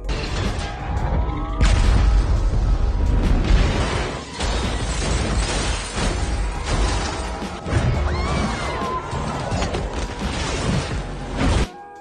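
A loud, sustained blast of a car explosion and crashing debris from a scene in the film Black Widow (2021), booming and roaring in waves with sharp impacts, no talking.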